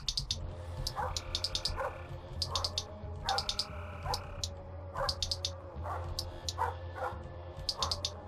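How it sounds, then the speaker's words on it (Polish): A dog in Splinter Cell: Blacklist gives repeated short barks and yips in a quick irregular rhythm, moderately loud over a low ambient game hum. "E, pies!"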